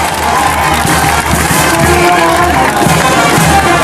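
A loud, continuous roar of crowd cheering and clapping fills the space, dense and sustained with shouts rising over it.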